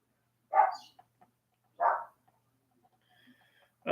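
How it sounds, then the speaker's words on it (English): Two pug dogs bark indoors in two short, fairly close bursts about a second apart, with near silence between them and another bark just starting at the end. "I have pugs, not 1 but 2, and they are currently barking"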